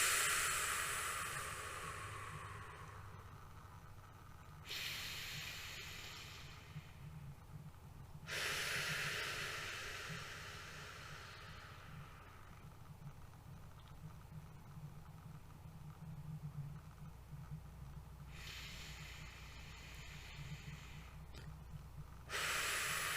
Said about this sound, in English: So let's just take a few deep breaths.